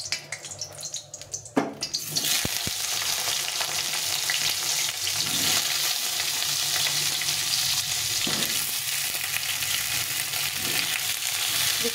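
Pointed gourd (potol) frying in a small amount of oil, a steady close sizzle that swells after a quieter start and holds loud and even, with a few faint clinks and stirs and no talk.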